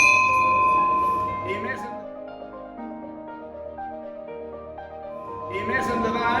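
A factory bell rings in a former textile mill museum in Manlleu, a loud, close metallic clang that rings out and slowly decays, then strikes again near the end.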